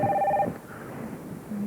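A telephone rings once in a short electronic trill at a steady level, then stops and leaves a quiet room.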